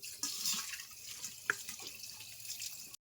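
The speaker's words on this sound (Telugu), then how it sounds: "ఫ్రెండ్స్ ఇవన్నీ ఇప్పుడు ఒకసారి ఇలా చేసుకుని అన్ని ఒకసారి వాటర్ తోటి క్లీన్ చేసుకుందాం." Broccoli and cucumber rinsed under a running tap, a steady hiss of flowing water with a few soft splashes and one brief knock, close by and alone with no talk.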